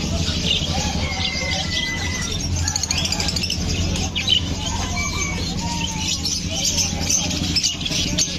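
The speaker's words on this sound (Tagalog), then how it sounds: "ito yung dala niya mga ibon" Pet birds such as budgies, parakeets and lovebirds at a bird seller's chirp in a dense, continuous chatter of small tweets, heard over a constant busy background with voices around.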